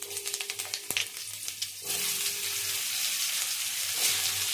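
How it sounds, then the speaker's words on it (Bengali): Sliced potatoes and bitter gourd hit fish-frying oil seasoned with cumin, a few sharp clatters and taps giving way to a loud, steady close sizzle that holds to the end. "এবার আলু ভালো করে ভেজে নেবো।"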